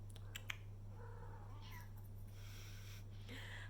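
A house cat meows several times indoors, thin rising-and-falling cries scattered across a quiet room with a low electrical hum underneath.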